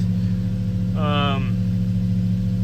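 A Toyota 4Runner 4th gen V8 idles steadily after startup, a constant low engine hum with a voice briefly speaking over it partway through.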